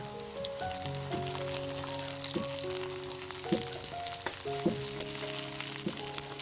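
Onions and chopped green chillies frying in a pan give a loud, even sizzle and crackle close by, with a few metallic taps from the spoon and no talking.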